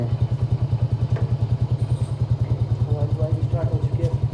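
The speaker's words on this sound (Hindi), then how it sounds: "बाइक कोल्ड स्टार्ट हो गई है हमारी" A motorcycle idling just after a cold start, a steady, rapid thumping engine pulse running evenly and close throughout, with faint clatter and light background sounds over it.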